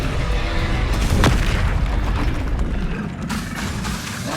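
Confringo blasting spell exploding in the video game Hogwarts Legacy: a heavy booming blast lands about a second in, set within dense, loud, continuous battle rumble and crackle.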